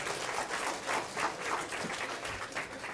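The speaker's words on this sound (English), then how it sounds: "Give yourself a big round of applause" An audience claps steadily in a church or gospel service, a continuous wash of applause with gentle swells and no voices standing out.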